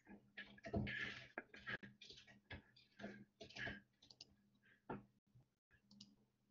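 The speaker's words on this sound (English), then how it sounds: "my keyboard's pretty loud." Rapid clacky keystrokes on a mechanical keyboard, loud and close, coming in irregular bursts with short pauses between.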